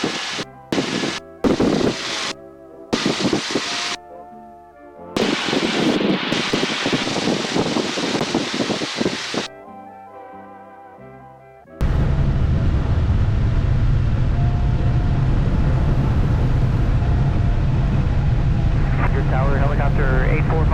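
Ford Trimotor airplane from 1928, its engines producing a loud, steady broadband roar that fills the second half after an opening of choppy edited sound with voices.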